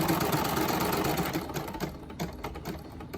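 Portable Cny E900 embroidery machine stitching a sash at 650 rpm, a fast, continuous mechanical rattle and tapping that runs steadily throughout, close and moderately loud with no voices.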